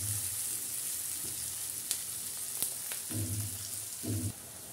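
Onions frying in a pan, a continuous soft hiss of oil with a few faint clicks and low thumps scattered through, fairly quiet and without talk.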